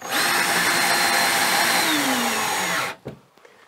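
A power drill drives a screw into a Leviton circuit breaker panel load center, a loud, steady whine for about three seconds that stops abruptly, followed by a brief clatter.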